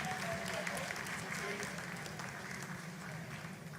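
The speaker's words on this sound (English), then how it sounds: "Lot of applause" Applause fills mission control at the Chandrayaan-3 lunar landing, a steady broad wash of clapping held for several seconds, with a low murmur of voices and commentary underneath.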